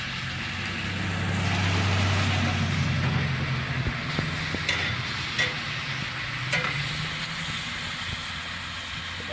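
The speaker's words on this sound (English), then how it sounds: "Quick stir, let that caramelize." Food caramelizing on a Big Green Egg cooker gives a steady, close sizzle, broken by a few quick scraping stirs.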